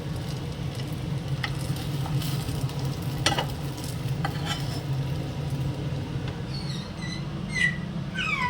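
Pitha cakes fry in a pan with a steady oil sizzle throughout, while occasional utensil clinks and scrapes sound close by.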